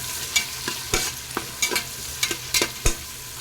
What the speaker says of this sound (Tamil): வெங்காயத்தை நல்லா கோல்டன் ப்ரௌன் கலரில் ஃப்ரை பண்ணிக்கலாங்க